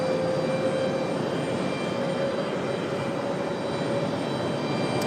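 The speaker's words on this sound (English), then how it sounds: "I figured the Air France arrival would have been just a little bit louder, but obviously those engines doing their job and being nice and quiet" Air France airliner arriving at Raleigh-Durham airport, its high-bypass jet engines giving a steady, fairly subdued roar with a faint whine throughout, no talking.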